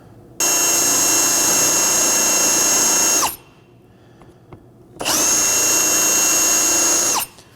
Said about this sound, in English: We're going to drill these out with this applied drill bit.